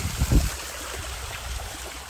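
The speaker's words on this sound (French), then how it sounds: "Avec la petite rivière qui va jusqu'à la paillote," A small stream runs toward a pool beside a thatched hut, giving a soft continuous trickle and gurgle close by, with a brief low thump near the start.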